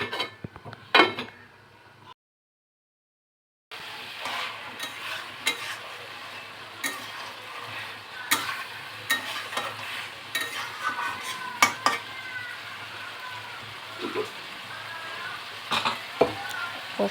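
Mutton stir-fries (kashano) in a pan with a continuous sizzle and repeated spatula scrapes and clinks against the metal, after a brief silent gap near the start.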